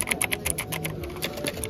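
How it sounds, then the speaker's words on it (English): Computer keyboard keys being tapped in an electronics shop, a quick run of clicky, even strokes close by with faint store ambience behind. "Oh, this is such a satisfying keyboard sound."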